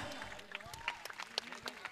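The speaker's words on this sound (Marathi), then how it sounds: "एकदा जोरदार टाळ्या होऊन जाऊ द्या" Applause at a women's cricket match at Wadala, with steady patter of clapping from a crowd and scattered sharp claps.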